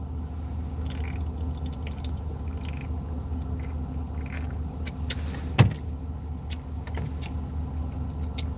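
A parked car's engine idles with a steady low hum, joined by faint clicks and one sharp knock partway through.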